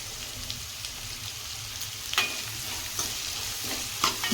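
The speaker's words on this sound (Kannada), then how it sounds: "ಇದು ಎಲ್ಲದು ನೀಟಾಗಿ ಚಂದ ಫ್ರೈ ಆಗಲಿ" Chopped tomato fries in a pan for shavige bath, giving a soft continuous sizzle punctuated by a few spatula scrapes against the pan, nobody speaking.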